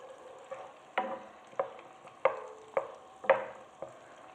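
Chopped onions and garlic dropped into a pan of butter and oil, a soft sizzle with a steady series of spatula scrapes and stirs repeating about every half second, fairly quiet and close.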